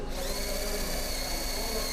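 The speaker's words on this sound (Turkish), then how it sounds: "Sıra geldi manifold deliklerimizi delmeye." A power drill whines steadily at high speed, close and loud, running continuously with a slight rising pitch as it bites into a car's intake manifold, drilling injector holes for a sequential LPG system.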